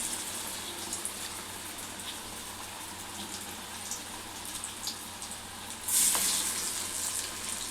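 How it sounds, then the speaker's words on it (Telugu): Soya chunk (meal maker) vadas frying in hot oil over a medium flame, a steady close crackling sizzle that runs unbroken throughout, briefly flaring brighter and louder near the end. "ఇది మీడియం ఫ్లేమ్ మీద కాల్చుకోవాలి"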